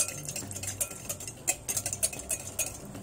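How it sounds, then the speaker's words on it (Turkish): A whisk slowly stirring yogurt sauce in a bowl, soft irregular clinks and scrapes of metal against the bowl in an uneven rhythm, close and quiet. "Şöyle bir çırpıcıyla yavaşça karıştıracağım."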